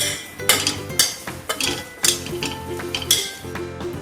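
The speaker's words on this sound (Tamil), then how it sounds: "இந்த மாதிரி நல்லா கிண்டி விட்டுக்கோங்க" A spoon stirs spice powders into paneer biryani masala in a pan, scraping and clinking against the metal in irregular strokes about every half second, close and fairly loud with a faint sizzle beneath.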